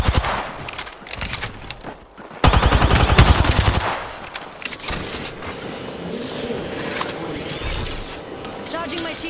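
Rapid automatic gunfire in Apex Legends bursts out loud and close, a dense rattling volley after a quieter start, then trailing into scattered mechanical noise and game effects while voices talk over it.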